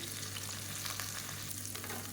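Chopped onions sauté in hot oil inside an open pressure cooker while cooking an empty salna side dish, giving a steady, dense sizzle and crackle with no speech.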